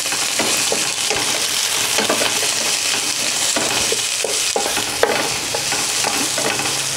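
Onions fry in a pan for a pork curry, a loud, dense, unbroken sizzle up close with constant stirring scrapes and no voices.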